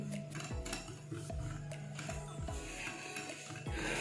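Roti batter with a tablespoon of oil is whisked in a bowl, a steady scraping and clinking with a low rhythmic thump about twice a second, close and continuous.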